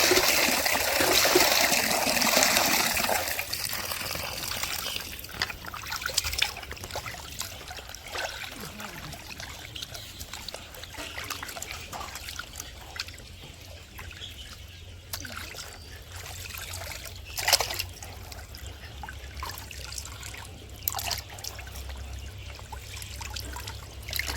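Water pours and trickles steadily while small fish are washed outdoors in a village, strongest during the first few seconds and then settling into a softer, continuous running flow with occasional splashes.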